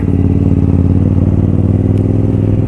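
A KTM 990 SMT Supermotard motorcycle engine runs loud and close, a steady deep throbbing idle-to-rev drone with firm low harmonics, heard alone without voices.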